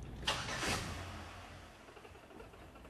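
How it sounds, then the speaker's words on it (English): A car engine cranking briefly with fuel delivery disabled, a rough mechanical whir that fades out without catching, fairly faint. "Start the vehicle 2 to 3 times, ensuring that the fuel delivery has been disabled and the engine will not start."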